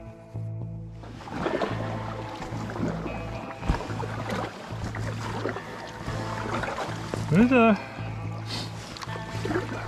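Canoe paddling through a narrow autumn waterway in northern Uppland, with soft splashes and water sloshing under nearly continuous nearby talk and a low steady hum.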